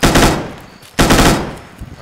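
Two loud, close bursts of machine gun fire in a military video game, each a rapid rattle that fades out before the next burst begins.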